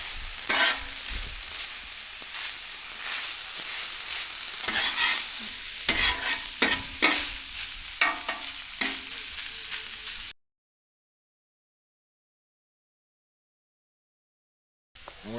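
Food stirred in a pan at a campsite after Italian seasoning and red pepper flakes go in. Close sizzling with scraping spatula strokes lasts about ten seconds, then cuts to silence before a brief burst of noise at the end.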